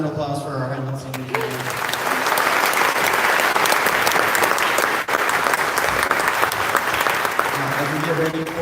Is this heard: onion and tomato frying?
no